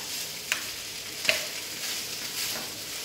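Rice and tomatoes frying together in a pan with stuffed-pepper spices, a soft continuous sizzle with two quick utensil clicks, close and alone.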